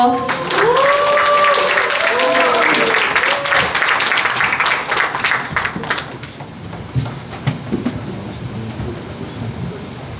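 Audience at a book launch celebration bursting into loud, sustained applause to welcome a singer, with a brief melodic tone early on; the clapping fades after about six seconds into quieter room murmur and talk.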